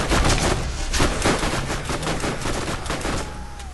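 Rapid gunfire from enemy-shooting in the Borderlands video game, a dense, loud run of shots crackling continuously through the whole stretch with no talking.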